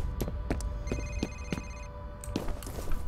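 Telephone ringing in the video game F.E.A.R., repeated electronic bell-like rings at a steady pulsing rhythm over a low droning game ambience, with no talk.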